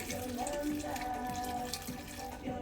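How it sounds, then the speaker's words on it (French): A little water is added to a pot of vegetable soup, giving a brief, soft trickling pour like a running tap, fairly faint and close. "Ensuite, on va rajouter un peu d'eau."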